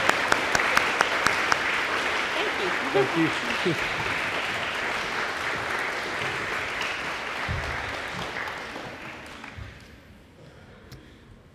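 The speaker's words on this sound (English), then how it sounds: "If you'll give these ladies and gentlemen a big round of applause" A crowd claps at an elementary school DARE graduation ceremony, with loud sustained applause that slowly fades out over about ten seconds while a voice briefly speaks over it.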